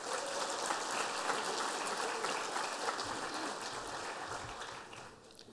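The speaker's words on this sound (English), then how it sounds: "Can we please have a big round of applause for the wonderful Stacey Fogarty?" An audience at the opening of a cybersecurity conference, AusCERT 2019, claps together in a dense, even patter that holds steady and then slowly tapers off, heard at a soft distance.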